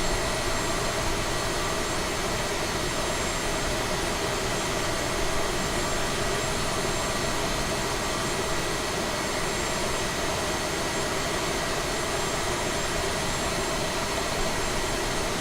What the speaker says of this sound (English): we got engine number 1 all started up